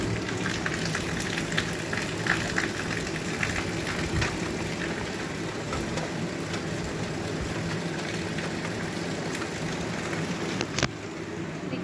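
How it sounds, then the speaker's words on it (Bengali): Steady rain hisses and patters continuously, with a few sharper clicks and knocks scattered through the constant wash. "এর মধ্যে দেখো বৃষ্টি শুরু হয়ে গেল"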